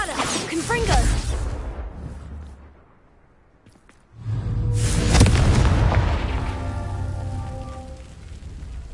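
Spell explosions from Bombarda and Confringo in the video game Hogwarts Legacy: loud booming blasts with a whooshing rush, a short quiet gap, then a second sustained burst of rumbling detonations.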